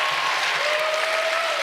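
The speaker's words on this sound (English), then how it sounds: "Can we get a round of applause for all of the performances that you've seen so far?" A crowd at a Mama's Hip Hop Kitchen Volume 5 show applauds the performers with dense, continuous clapping that fills the room, close and fairly loud, while a faint voice or whistle rises briefly over it.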